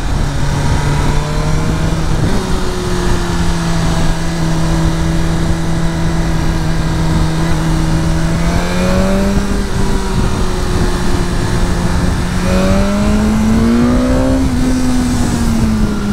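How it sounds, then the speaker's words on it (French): Four-cylinder BMW S 1000R motorcycle engine pulling hard through the gears on the road, a loud continuous howl with rising pitch sweeps and brief shifts, close and steady with no talking. "Le son du 4 pattes est très sympa."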